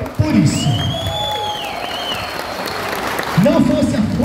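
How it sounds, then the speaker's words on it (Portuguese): A crowd at an inauguration of a public arts centre breaks into a burst of clapping, with a short whistle-like tone over it, while a voice speaks just before and again as it fades. "eu peço aplausos ao prefeito Lucasia por isso."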